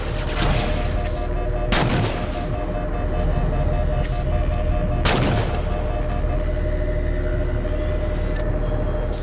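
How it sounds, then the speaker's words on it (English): Two sharp, loud weapon blasts ring out in Halo 4, a few seconds apart, over a constant deep engine-like rumble and hum, with no talking. "Taking fire, starboard side!"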